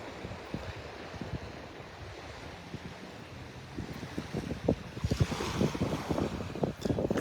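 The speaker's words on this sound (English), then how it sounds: "The wind's coming from the east, northeast, coming from behind me. Keeping the waves down." At Delnor-Wiggins beach, a breezy east-northeast wind buffets the microphone while small, gentle waves wash in, growing louder and more frequent toward the end.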